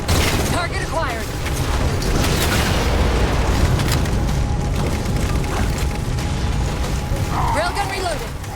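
Railgun fire and booming explosions at Phantom dropships in Halo 4, heavy low rumbling blasts sustained throughout with a couple of brief crackling bursts, loud and close.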